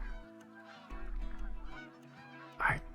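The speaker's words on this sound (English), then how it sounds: "Oh, we got more geese coming right in." Geese honking in the hunting game Call of the Wild, a flock coming in with repeated calls building to a loud burst of honks near the end.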